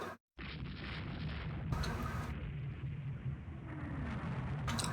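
Heavy naval shells strike warships, the Grazdanin and the Braunschweig, during a battle in the Rule the Waves 2 game: a dense, continuous roar of booms and rumbling impacts, with sharper bursts breaking through, and no voices.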